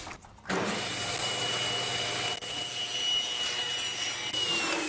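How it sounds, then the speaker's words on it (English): A table saw with an Osborne EB3 miter fence trimming the ends of a wooden sawhorse piece, a loud steady cutting whir starting abruptly and running close up. "I'm going to use my Osborne EB3 miter fence to clean up the ends"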